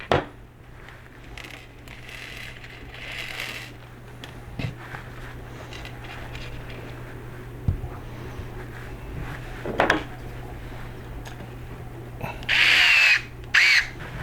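Number 4 screws being driven into a component with a small power driver, heard as short buzzing bursts separated by quiet pauses and light handling clatter, close and fairly faint.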